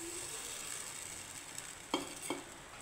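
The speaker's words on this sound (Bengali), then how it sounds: "মশলার সাথে ভালোভাবে কষিয়ে নেব" Spices sautéed with a splash of water in a pan alongside raw chana dal and okra: a soft, steady sizzle with two brief spatula scrapes near the end, no voices.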